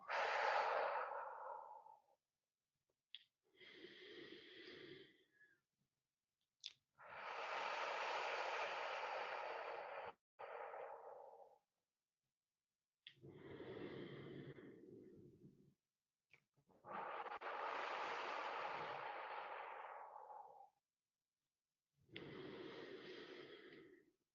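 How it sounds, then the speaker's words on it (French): Three slow, deep breaths during a relaxation exercise, each a long audible inhale followed by a long airy exhale, close and soft with quiet gaps between them. "Inspirez 3 fois profondément."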